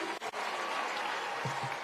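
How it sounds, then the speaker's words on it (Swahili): A large outdoor crowd applauds President Ruto at the Turkana Cultural and Tourism Festival in Kenya, producing steady, dense clapping that fills the moment from start to finish, with a couple of brief dips early on. "Hebu pigeni rais makofi."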